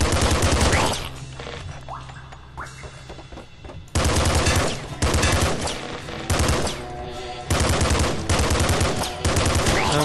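SMG gunfire in the video game Nuclear Throne, loud rapid bursts of synthetic shots in several clusters separated by short quieter gaps with faint game effects.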